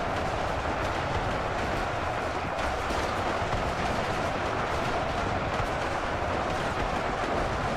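A train rolls along in the Warhammer UEBS 2 video game amid battle, a loud, dense, continuous rumble with steady rattling throughout.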